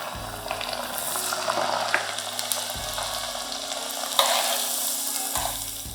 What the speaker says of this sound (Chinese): 大火炸大概10秒，